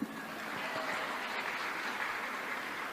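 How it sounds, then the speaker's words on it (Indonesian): Applause from an audience at a public gathering in Indonesia, a steady wash of clapping that holds at an even level for the whole stretch with no voices over it. "Tepuk tangan dong."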